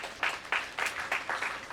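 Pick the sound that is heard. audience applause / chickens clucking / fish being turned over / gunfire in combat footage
audience applause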